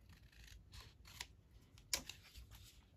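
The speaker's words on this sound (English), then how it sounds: "Just trim off the excess there." Scissors snip through excess washi tape on a Christmas junk journal page, a few quiet cuts and rubs with one sharper snip near the end, close and soft in a still room.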